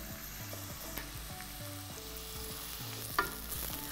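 Onions with fresh ginger sizzle and fry steadily in a pan as they caramelize, a continuous close crackling hiss with faint stirring, and a low hum running underneath.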